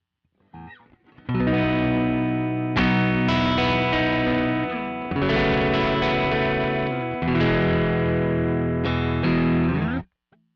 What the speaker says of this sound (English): a very cool plugin called Sans Amp. And one of my favorite presets is the JMP1.